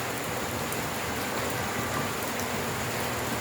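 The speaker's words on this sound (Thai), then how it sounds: "พอฝนตกมาค่ะ" Steady rain falling, a continuous dense hiss of drops at moderate loudness with no gaps or voices.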